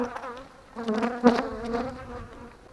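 Bees buzz steadily and close around a neglected, abandoned hive, a dense droning hum that swells and wavers as insects swarm nearby.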